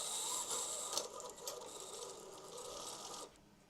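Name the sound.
Sewtalent embroidery machine running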